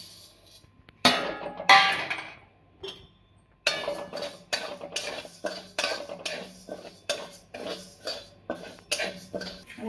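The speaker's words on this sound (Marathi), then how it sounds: "उडदाची डाळ भाजून घेऊया उडदाची डाळ भाजून घेऊया" Urad dal dry roasting in a pan for chakli bhajani flour, with a steady run of scraping, clinking stirring strokes against the metal, loud bursts at first and then rhythmic repeated scrapes.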